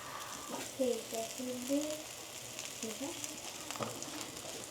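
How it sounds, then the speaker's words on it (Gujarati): Oil sizzling on a hot pan while paper dosa is being made, a soft continuous frying hiss with faint voices and tonal background sounds over it. "તેલ નાખું ને તે ઉસળી જાય."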